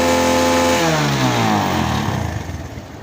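Suzuki GS150 motorcycle engine revved hard from idle, a loud rising roar with climbing harmonics that peaks and then begins to fall away near the end, with no talking.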